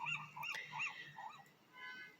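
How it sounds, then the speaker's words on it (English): Seagulls calling outside a library in Pacific Grove on the Monterey Peninsula: several short, bright squawking cries in quick succession, fairly close and moderately loud over a faint outdoor background. "you can hear the seagulls."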